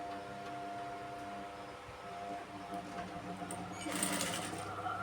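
A sewing machine stitches colored thread through fabric with a steady, close mechanical whir that holds throughout and grows a little louder near the end. No one speaks.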